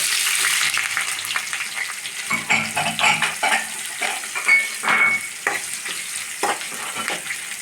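Cumin seeds and chopped onion frying in oil in a pan, a loud close sizzle broken by repeated scraping and clinking of a spoon stirring, with no voices.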